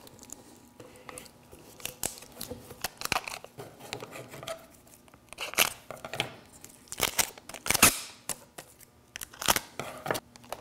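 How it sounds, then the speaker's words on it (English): Adhesive tape is pulled and pressed onto the corner of a handmade wooden box, giving a series of close, crackly tearing and peeling bursts with brief quiet gaps; no talk. "And then tape the final corner."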